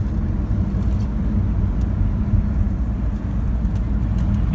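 A Citroën car drives a tight, winding park circuit with S-bends, its engine and road noise a steady low rumble close by throughout, with no clear rise or fall in pace.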